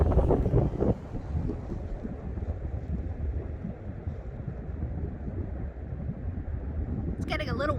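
Wind buffets the microphone on an icy winter New England beach at Plum Island as a steady, low rumbling roar, with brief speech at the start and a short voice near the end.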